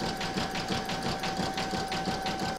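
An embroidery machine stitching an in-the-hoop banner with a satin stitch, running alone in a steady, fast mechanical rhythm with a constant whirring hum and regular needle thumps throughout.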